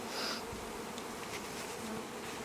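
Honey bees buzz steadily as they are installed into a hive, a faint, dense outdoor hum with an occasional individual bee passing close by.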